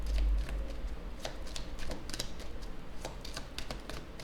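Tarot cards shuffle and slide over one another during a card reading, a close, light run of quick taps and rustles over a low steady hum.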